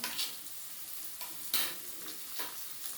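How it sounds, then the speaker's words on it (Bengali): Steady sizzling of onions frying in a pan, with occasional stirring scrapes; no talking. "পেঁয়াজগুলো আমার বেশ ভাজা ভাজা হয়ে এসছে। এবার আমি রসুন বাটাটা দিয়ে দেবো,"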